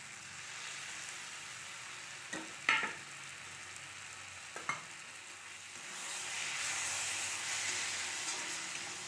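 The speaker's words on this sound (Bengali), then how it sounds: "সবগুলি মশলা ভালো করে ভেজে" Spices such as cumin powder, ground peanut and sesame paste fry with tomatoes in a pan, a soft steady sizzle broken by a few sharp scrapes of stirring, then rising to a louder hiss near the end.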